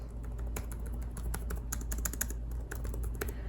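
Fingers type steadily on the Lenovo Flex 5i Chromebook keyboard, a close run of crisp clicky keystrokes over a low background hum.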